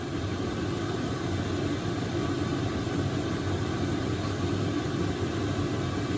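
A Chinese diesel heater runs in a workshop, giving off a constant, even broadband roar with a low rumble that stays steady throughout, with no talk.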